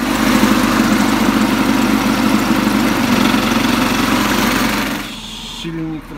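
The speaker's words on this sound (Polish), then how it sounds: "Silnik troszeczkę niezdrowo brzmi, zaraz będę musiał to podregulować." A lawn mower engine driving a homemade generator runs loud and steady with a rough, slightly uneven drone, then drops in level near the end.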